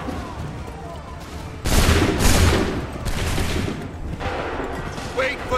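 Musket volleys crack out in an Assassin's Creed III Battle of Lexington scene, several loud, ragged bursts of massed gunfire following one another over battlefield noise.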